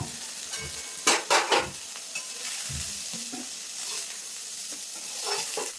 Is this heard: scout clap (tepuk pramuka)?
no